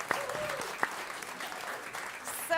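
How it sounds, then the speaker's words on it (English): An audience at a celebration of regenerative agriculture applauds arriving guests, a short burst of clapping with a few sharp claps standing out and voices murmuring underneath. "Give them a round of applause."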